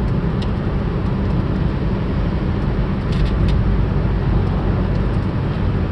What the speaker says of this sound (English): we're going to have a car coming right at us here in a bit